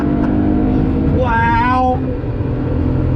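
Nissan R32 Skyline GT-R NISMO engine revving hard under throttle on a track drive, a loud rising tone sweeping up for about a second within steady cabin rumble, with a brief spoken exclamation.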